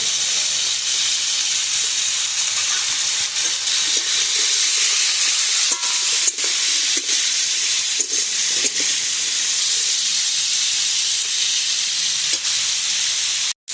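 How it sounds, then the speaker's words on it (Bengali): Bottle gourd greens with salt and turmeric fry in a pan, giving a loud, continuous sizzle and hiss broken by occasional sharp clicks from stirring, with no talk. "মোটামুটি ভাজাভাজি হয়ে গেছে"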